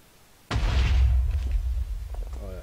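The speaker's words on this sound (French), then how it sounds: "Voilà, une explosion." A sudden loud boom from a toy volcano's explosion effect, triggered by a button on an interactive children's book, bursts in after a quiet start and rumbles on with a sustained roar that slowly fades.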